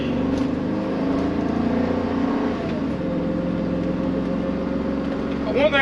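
2005 Newmar Kountry Star Class A motorhome on a Workhorse chassis accelerating from a start, its engine a steady, loud, rising drone with road noise inside the cab and a voice heard over it.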